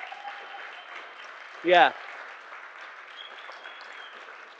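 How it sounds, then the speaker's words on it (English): Faint, steady applause from a church congregation fills the background, broken once by a short, loud shouted voice. "give him a big clap"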